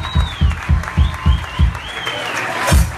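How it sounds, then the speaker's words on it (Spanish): Audience applause at an acoustic live show, a run of sharp rhythmic group claps in even bursts, close and loud, with a whistle-like tone sliding above. "Fuerte los aplausos, en serio"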